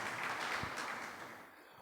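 Applause from an audience at a coaching institute event honouring students who reached IIT, a dense wash of clapping, moderately loud and slowly fading, with no talking over it.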